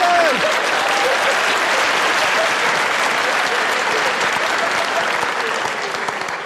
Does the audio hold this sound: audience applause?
yes